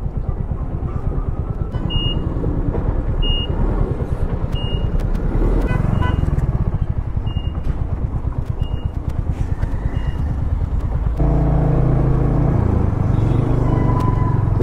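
Stalled traffic on a rough highway, heard from a Royal Enfield Hunter 350 motorcycle: idling and revving engines rumble nearby while short horn beeps repeat, with a louder vehicle engine surging near the end.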